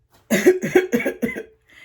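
Four quick, harsh coughs in a rapid run, close and fairly loud, followed by a brief faint rasp.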